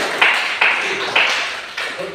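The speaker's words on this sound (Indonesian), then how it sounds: "Kita beri tepuk tangan dulu begitu." Classroom students give a short round of hand claps, four evenly spaced bursts that ring out loudly and decay, in a rhythmic clap pattern.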